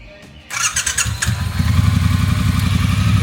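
A Triumph motorcycle, a special Elvis edition Cafe Racer, cranks briefly and fires up close by, then settles into a steady, loud, throbbing idle.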